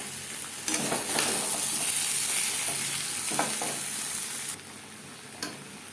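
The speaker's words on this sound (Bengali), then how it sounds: "লবণ হলুদ দিয়ে আলু ভেজে নেব" Potato pieces coated with salt and turmeric fry in hot oil, giving a loud, steady, close sizzle with a few scraping stirs before it drops to a quieter hiss near the end.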